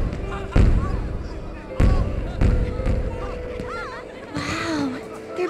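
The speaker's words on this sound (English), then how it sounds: "The fireworks have started." Fireworks burst in the Detective Pikachu video game as a few separate booming blasts spaced apart, with voices talking over them.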